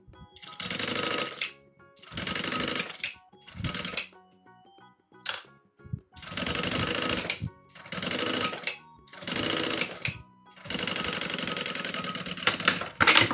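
A sewing machine stitches a synthetic strip onto plastic in several bursts of rapid mechanical whirring, each lasting about a second, separated by short pauses with light handling sounds, close and fairly loud.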